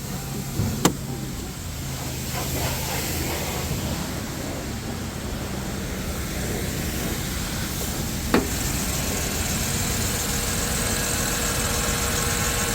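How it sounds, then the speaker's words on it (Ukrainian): A used car's engine idles under an open hood at a car market, a steady low, even hum with faint vibration, close up, with a couple of brief clicks. "Чиста робота двигуна."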